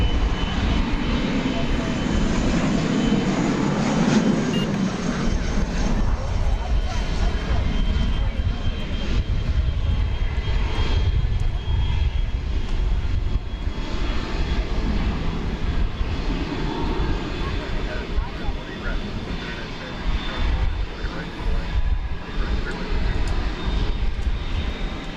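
A loud, steady jet engine roar from an American Airlines airliner taking off at night from DFW Airport, sustained broadband rumble throughout with a faint whine, radio talk faint underneath.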